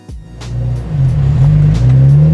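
A Mazda NC Miata pulls out of a gas station parking lot, its engine droning low and steady from inside the cabin as it builds revs, with a few faint clicks above the rumble.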